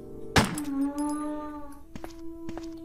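A single sharp gunshot in the Resident Evil Director's Cut video game, a loud crack followed by a ringing tonal decay and a few softer game sounds.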